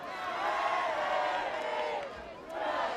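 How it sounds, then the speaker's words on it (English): Beverly football fans chant together in a loud, swelling crowd roar at a high school game against Winchester, the rhythmic group voices rising and dipping over three seconds. "Beverly fans start the hey, hey, goodbye chant"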